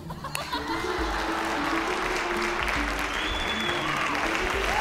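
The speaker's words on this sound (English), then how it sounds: "round of applause for Anne." An audience bursts into steady, dense applause that carries on evenly for several seconds, with faint crowd noise underneath.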